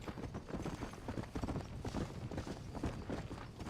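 Horse hooves clip-clop steadily in the Red Dead video game, a dense run of close, rhythmic hoofbeats lasting the whole stretch with no talk over them.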